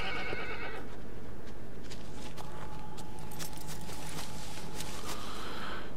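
Horse in the Shadow of the Colossus video game whinnies clearly at the start, then hooves clip-clop in a steady rhythm beneath faint game ambience, with a few louder snorts and scuffs nearby.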